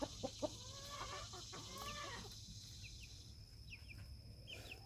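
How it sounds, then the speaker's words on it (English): Several chickens cluck close by in a quick, uneven run of calls, with a faint hum of farmyard background underneath. "they turned out to be pretty little chickens"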